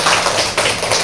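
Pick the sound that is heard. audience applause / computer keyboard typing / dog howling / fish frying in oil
audience applause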